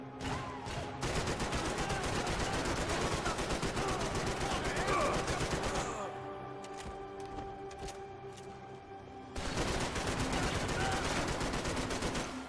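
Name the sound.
gunfire in the video game Max Payne 3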